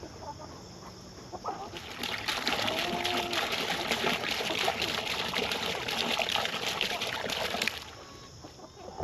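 Water trickles and splashes steadily from a clogged waterer on a homestead farm for several seconds. Chickens cluck nearby.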